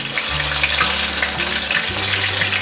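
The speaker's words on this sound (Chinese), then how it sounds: "把鲍鱼菇炸至金黄酥脆" Oyster mushrooms deep-fry in oil over medium-low heat, a loud, dense bubbling sizzle with low burbling undertones, continuous and near, no voices.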